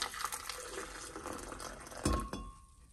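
Water trickles from a tap into a blender jar holding guajillo chiles, a steady close pour with a brief louder splash near the end.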